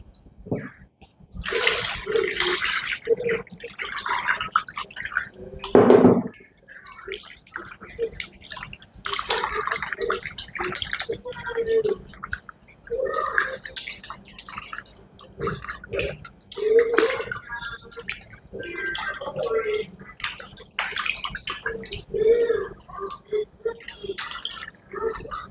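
Water splashes and drips as raw chicken pieces are rinsed and handled in a basin, with uneven close sloshing bursts and a brief louder pour.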